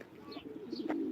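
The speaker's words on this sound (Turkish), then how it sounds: "Evet arkadaşlar kuşlar bunlar" Soft, close pigeon coos, a short low throaty call repeated briefly against quiet background.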